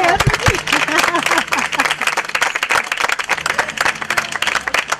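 Applause for car owners at a hippodrome concours d'elegance in Toulouse, steady clapping filling the space while voices and music-like tones sound over it near the start.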